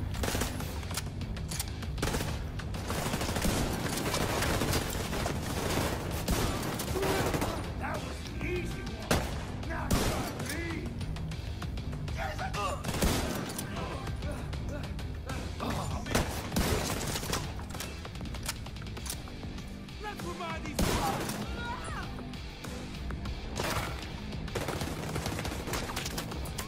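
Sustained gunfire in The Division 2: Warlords of New York at the Civic Center, dense repeated shots and bursts throughout under a loud game mix.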